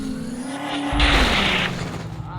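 A car in a video game skids with a rising tire squeal and then crashes with a loud, harsh burst of impact noise, close and alone, before the roar fades off.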